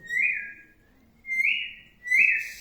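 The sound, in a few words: bird sounds imitated on a musical saw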